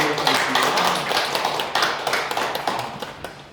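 A church congregation bursts into applause during a Sunday service, with dense, close hand clapping that starts strong and slowly thins out.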